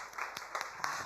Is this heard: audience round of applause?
yes